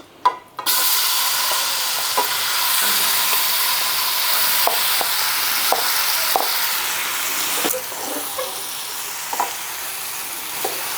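Loud, constant frying sizzle from marinated paneer dropped into hot oil, close by, with occasional clicks and scrapes of stirring.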